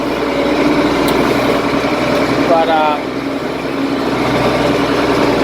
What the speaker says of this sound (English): I see that my uncle's down here with his tractor.